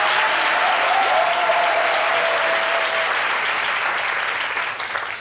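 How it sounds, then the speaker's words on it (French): A television studio audience applauds in a loud, sustained burst of steady clapping for a celebrated singer, with a faint sustained tone under the first few seconds before the clapping thins slightly at the end. "Ça mérite vraiment du respect et une explosion d'applaudissements."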